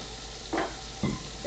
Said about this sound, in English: So much sizzle, so much yum.